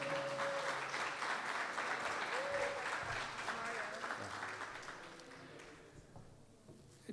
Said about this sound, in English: Let's give a round of applause to our mayoral candidates.